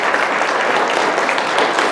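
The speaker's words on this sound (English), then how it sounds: "why don't we give one round of applause for the panelists this morning" Audience applause for the panelists at a Native American Studies 50th anniversary event, a loud, dense and even burst of many hands clapping close by, continuous for the whole stretch with no voices heard.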